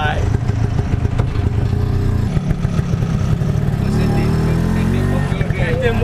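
A rattling small engine of a Bajaj auto rickshaw chugs and revs close by in Jakarta, steady and clattery, with a voice talking over it.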